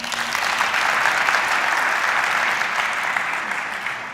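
Dense, steady audience applause fills the whole stretch at a design innovation conference talk, loud and continuous with no voices over it.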